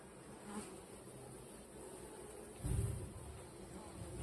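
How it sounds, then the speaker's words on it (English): Worker honeybees drone at an open hive, a low steady buzz that stays faint throughout and swells briefly as one bee passes close to the microphone. "All of these I think are just worker bees."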